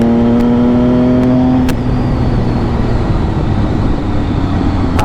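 An MV Agusta motorcycle with a loud aftermarket exhaust revs, holding a high, steady note before dropping off into a rough, throbbing idle.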